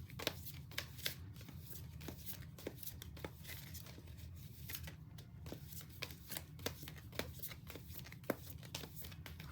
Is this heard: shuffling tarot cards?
yes